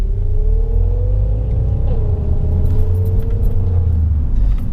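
A BMW engine rumbles nearby, a loud low drone with a faint steady tone that dips briefly midway, heard from inside another car during a driving lesson, with no talk.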